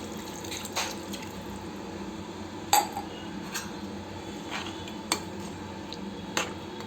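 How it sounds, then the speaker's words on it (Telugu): Water is poured into a pan of Telangana-style chicken curry to make gravy, giving a steady watery wash broken by a few sharp clinks of a utensil against the pan. "ఇప్పుడు మనం గ్రేవీకి సరిపడా వాటర్ వేసేసుకోవాలి."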